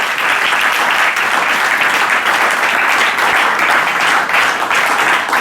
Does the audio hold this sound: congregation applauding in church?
yes